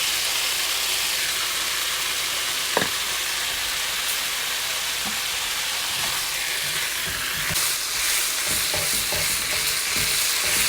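Keto pad thai noodles stirred with sauce in a hot pan, a constant hissing sizzle with soft scraping and occasional utensil knocks against the pan, growing busier toward the end.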